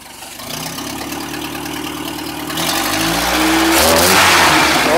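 A cammed 1977 Toyota pickup's 20R engine idles with a loud, choppy exhaust rumble on its first run, then climbs as it revs higher and grows louder, close up.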